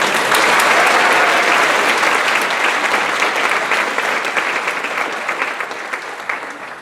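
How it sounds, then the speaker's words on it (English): A graduation ceremony audience applauds, producing a dense, steady wash of many hands clapping that stays loud throughout and fades only slightly toward the end. "Let's give another round of applause to Gloria"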